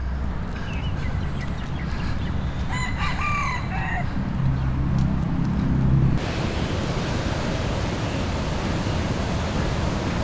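Ocean surf at Sunset Beach, Oahu, a steady broad wash throughout, with a rooster crowing and clucking in the first half.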